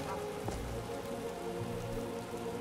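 Steady rain in Skyrim falling at night, a constant hiss of drops on surfaces with faint low rumbles underneath, no voices over it.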